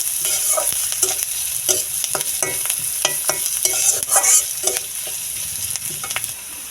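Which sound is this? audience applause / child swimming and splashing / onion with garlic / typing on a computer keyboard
onion with garlic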